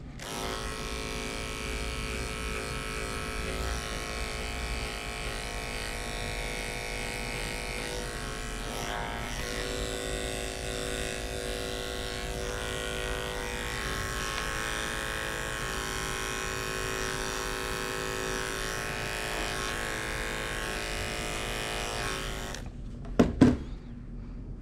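Electric hair clippers fitted with a number 7 guard buzz in a steady, close drone while trimming a neckline, running unbroken for over twenty seconds before cutting off abruptly with a couple of clicks.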